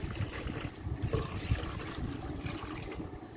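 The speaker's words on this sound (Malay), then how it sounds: "Masukkan 5 cawan air." Five cups of water poured into a pot for rice porridge with minced meat and ginger, a close, steady splashing and gurgling stream that lasts throughout.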